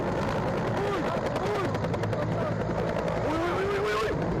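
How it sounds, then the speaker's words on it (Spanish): A helicopter in flight struggles low over house rooftops, its rotor and engine roaring loud and continuous with a steady chop, while a voice talks over it. "El helicóptero luchaba sobre los tejados de las casas por no terminar estampillado en el suelo."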